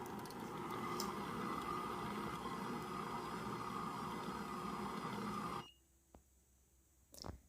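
A dough mixer runs at low speed kneading poolish baguette dough, a faint, steady mechanical whir and churn lasting several seconds before cutting off abruptly, leaving near silence with a couple of small knocks.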